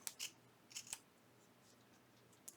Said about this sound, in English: you just take your scissors and you simply cut it out just like this